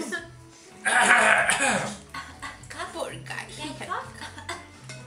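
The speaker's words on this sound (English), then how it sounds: "We cough on command." Deliberate coughing on command: a loud burst of harsh coughs near the start, followed by quieter throat-clearing sounds and a few scattered clinks, with no words spoken.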